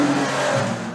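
A street stock race car engine roaring nearby in a steady loud drone with a rising pitch line, one brief burst of sound.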